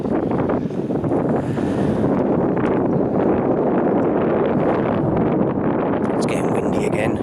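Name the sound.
wind at Yelden castle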